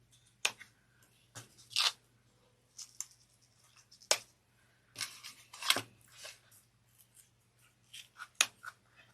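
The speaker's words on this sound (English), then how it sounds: "Now we're going to trim down the zipper." Scissors snip a zipper while an espresso wallet is being made, giving a series of sharp, close, quiet cuts at irregular intervals over a faint steady hum.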